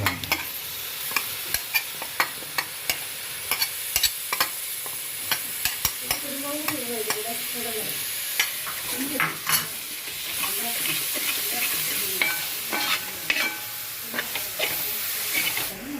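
A coriander and fennel mixture is poured into a pan and fried for a murrel fish curry, with continuous sizzling and hissing alongside frequent sharp clinks and scrapes of stirring.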